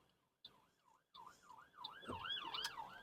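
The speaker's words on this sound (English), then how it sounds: "Oh, it's a police car." Police car siren wailing in repeated rising and falling sweeps while driving in Rochdale traffic, starting faint and swelling louder as it nears, with a second siren layering in toward the end.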